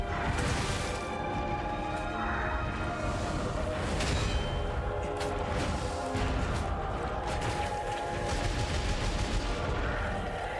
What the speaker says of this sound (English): fucking missiles?